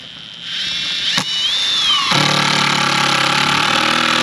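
A power drill drives screws into a metal chicken coop, its whine rising and settling into a loud, steady buzz after a brief startup, close by and with no talk over it.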